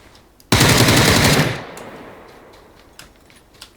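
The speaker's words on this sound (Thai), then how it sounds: "ยิงยิงยิง" Automatic gunfire in the battle royale game PUBG: one loud, sustained burst of rapid shots lasting about a second, then a fading echoing tail with a few faint distant pops.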